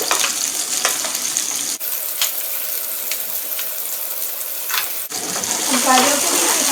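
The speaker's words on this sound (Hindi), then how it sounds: "अब इसके अंदर मैं गाजर को मिला रही हूँ।" Carrots stirred and frying in a hot pan with capsicum for chicken fried rice, a steady sizzle with scraping stir strokes, broken by brief pauses and a burst of louder crackling near the end.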